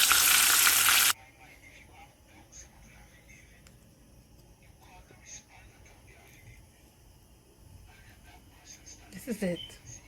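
Salmon frying in a pan, a steady loud sizzle for the first second, then quieter crackling and spitting with occasional pops and clatter.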